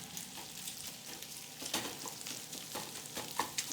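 Onion being stirred into sizzling bacon in a frying pan, a steady crackling fry with soft scraping stir strokes and occasional sharper pops, moderately close and without talk.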